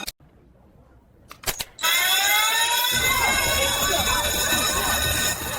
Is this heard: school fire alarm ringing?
yes